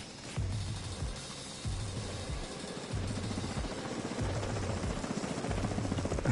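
A helicopter in The Division 2 thuds steadily with a loud, rhythmic rotor beat pulsing about once a second, holding close and constant throughout.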